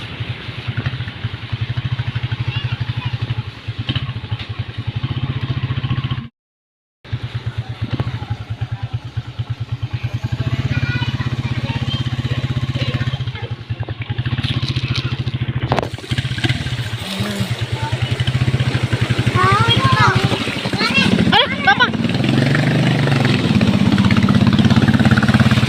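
A motorcycle engine idles steadily with a low rumble and some clatter, typhoon wind rushing over it, nearly stalling and briefly cutting out once before resuming.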